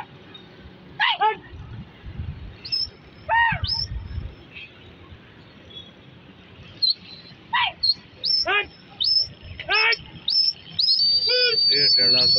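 Racing pigeons at a loft call in scattered short chirps and coos, some sharp and bright, others softer, repeating irregularly near the listener, with someone talking intermittently underneath.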